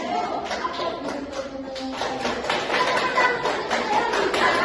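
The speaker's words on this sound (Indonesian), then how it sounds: "Tepuk tangan." A class of pupils claps their hands together in a quick, scattered patter during a microteaching lesson, moderately close, with a few voices murmuring underneath.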